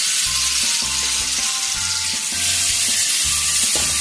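Green chilies frying with garlic-ginger paste over a high flame, giving a loud, constant hissing sizzle with a rhythmic, repeated low thumping of stirring throughout.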